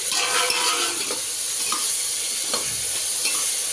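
Chopped tomatoes for sambar sauté in a pan with a loud, continuous sizzle, while a few light utensil scrapes and clinks come through from stirring close by. Nobody speaks.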